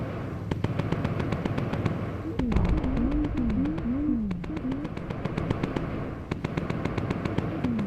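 Bomber turret guns fire in rapid bursts in the video game Bomber Crew, a steady rattling stream of sharp shots under engine drone, with a brief wavering tone in the middle.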